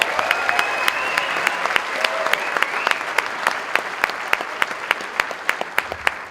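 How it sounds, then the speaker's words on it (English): Audience at the Mr. Olympia 2013 press conference applauding for bodybuilding founder Joe Weider, a sustained wash of clapping with sharp louder claps standing out at regular intervals over the crowd. "So how about a big round of applause, our founding father,"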